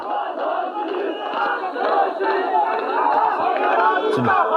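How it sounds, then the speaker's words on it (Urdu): A crowd of PML-N party workers, men and women, chant slogans against the Chief Justice outside the Supreme Court in a loud, rhythmic mass of shouting voices that swells steadily, with police present. "وہ دیکھیے چیف جسٹس سجاد علی شاہ کتا کے نعرے لگائے نون لیگی کارکنوں نے"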